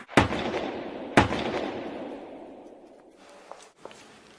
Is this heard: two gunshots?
yes